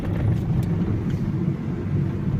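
A Fiat Doblo 223 with a 1.9 JTD diesel engine is being started, giving a loud, steady low rumble close by.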